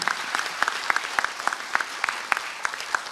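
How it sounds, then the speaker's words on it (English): Applause for Principal Scott Stevens at a Woodlawn High School event, a scattered crowd clapping steadily with distinct, fairly sparse claps at moderate volume. "Let's give him a round of applause."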